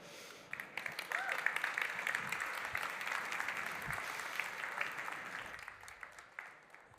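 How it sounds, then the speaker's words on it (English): A conference audience breaks into applause welcoming a keynote speaker, swelling quickly and holding steady before tapering off toward the end. "give a warm applause and welcome to our keynote speaker"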